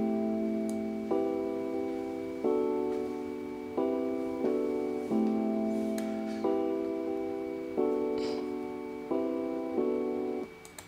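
Electric piano playing the main part of an Afrobeat beat, a steady sequence of soft sustained chords changing roughly every second and a half, fairly quiet and close, with a faint high hum underneath.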